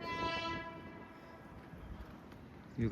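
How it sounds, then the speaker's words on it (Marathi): A train arrives with a long sustained horn blast at the start, followed by the rumble of rolling wagons, fairly faint and distant, heard during a palkhi pilgrimage walk from Vasai to Shirdi. "इकडून ट्रेन आलेली आहे"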